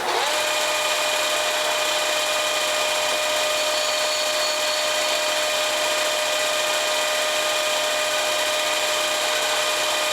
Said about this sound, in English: Let's put a little countersink in these locations right here.